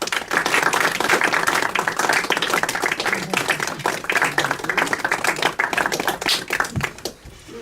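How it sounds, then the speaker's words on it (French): Polite audience applause for actors, a steady spatter of many hands clapping loud and close for about seven seconds before thinning out at the end. "applaudissements polis du public"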